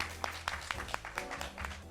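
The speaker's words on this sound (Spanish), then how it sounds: "un aplauso por favor" Audience applause at a live event about immigration stories at Casa Colombia: a thin, rhythmic patter of claps, about four per second and fairly faint, over a low steady room hum.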